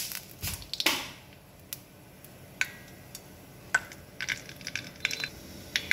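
Half a teaspoon of mustard seeds splutters in hot oil, giving scattered sharp pops and crackles, a few loud bursts early and then intermittent close ticking pops over a quiet background.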